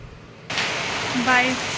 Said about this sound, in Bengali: বাইরেটা পুরো বৃষ্টি হচ্ছে, পুরো মুষলধারায় বৃষ্টি